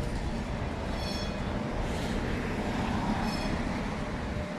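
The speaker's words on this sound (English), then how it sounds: "See the trams running." Trams roll through Sheffield city centre at night, a steady loud rumble of wheels on rail with faint squeals, continuous throughout and no voices.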